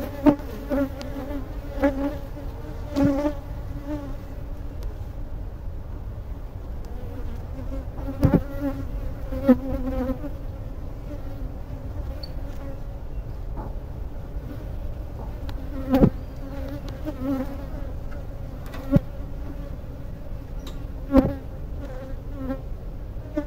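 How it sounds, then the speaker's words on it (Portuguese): A rescued honeybee swarm hums steadily inside a Flow hive, a dense continuous buzz with occasional louder passes of individual bees close by, no talking. "Esse é o nosso enxame do resgate, que é a máquina de fluir."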